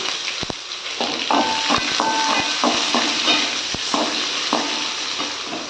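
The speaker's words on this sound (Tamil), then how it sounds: "இந்த டைமில் கறி லீஃப் வெங்காயம் போட்டுக்கலாம்" Curry leaves and onion fry in a hot pan for aval upma, a steady loud sizzle with repeated scraping stirs and a few sharp clinks of the spoon.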